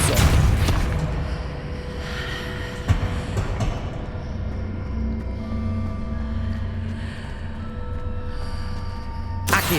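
Spell impacts from the Hogwarts Legacy video game, including a Depulso push, land as heavy booms with sharp cracks near the start, around three seconds and at the end, over a low rumbling game backdrop.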